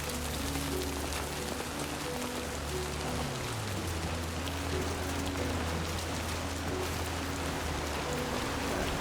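Steady, dense rain pours down in the video game Death Stranding 2, a constant broadband hiss with low droning tones and music-like hum beneath, with no voices.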